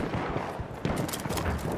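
Battlefield 1 gunfire in a multiplayer match, a ragged series of shots and distant booms over a steady battlefield din, growing denser toward the end with a loud crack at the close.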